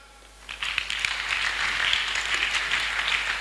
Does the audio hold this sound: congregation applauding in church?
yes